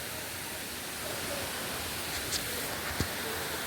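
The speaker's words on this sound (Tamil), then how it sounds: "இந்த இடத்துல ஒரே வாட்டர் அந்த சவுண்டு மட்டும் தான் கேட்குது, தண்ணி சவுண்டு மட்டும் தான் கேட்குது." Water rushes in a steady, soft hiss at Jalagamparai falls in the Yelagiri hills. The sound is faint and unbroken, with no voices.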